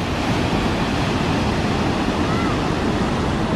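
Water rushes along the Icefields Parkway near Jasper in a loud, steady, unbroken roar of broadband noise, close to the microphone, with wind buffeting mixed in.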